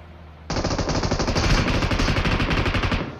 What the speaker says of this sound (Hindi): भाई बंदे की फायरिंग आती है तगड़ी वाली